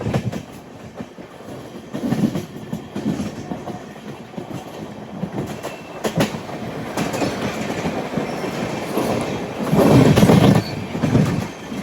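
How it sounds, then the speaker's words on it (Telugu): A goods train rolls past at a railway crossing, its wagons giving a steady rumbling clatter with rhythmic clickety-clack of wheels over the joints, swelling louder near the end; no talking. "క్రాసింగ్ మీద క్రాసింగ్ పడుతుంది. గూడ్స్ బండి, మాల్ గాడి."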